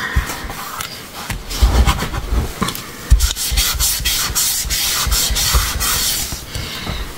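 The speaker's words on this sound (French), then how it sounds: "les sachets ça m'embête, ça fait du bruit" Plastic sachets being rustled and handled at a craft table, with crinkly scraping and rubbing bursts that come in irregular handfuls, close and fairly loud, without any talk.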